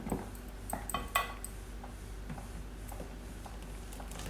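A spoon working melted butter and chocolate together in a bowl, with a few light clinks and scrapes early on, then softer stirring over a steady low background hum.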